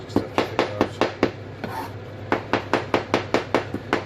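A kitchen knife chopping through food on a cutting board while an Irish stew is prepared, a close, steady run of sharp knocks, one brief pause midway, then quicker regular strokes.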